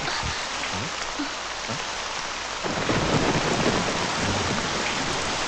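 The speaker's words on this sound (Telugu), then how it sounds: "వర్షం పెరిగేటట్టుంది" Dense, steady rain hissing down, with low rumbles of thunder; the downpour grows heavier partway through.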